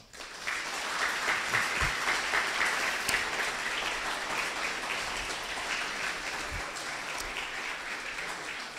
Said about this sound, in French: Maxime Duvauchel et Pierre Gentillet, méritent vos applaudissements aujourd'hui.